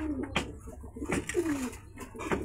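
Pigeons at an outdoor pigeon market in Gollamari, Khulna, give soft, repeated throaty coos, several calls overlapping at moderate distance.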